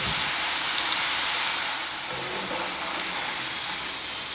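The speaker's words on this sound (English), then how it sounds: "Do not add a lot of chips at the same time. It will be overcrowded and won't fry properly." Tortilla chips deep frying in hot oil for a salsa roja snack, giving a dense, even hiss and bubbling crackle that eases slightly midway and runs on steadily, close and without voices.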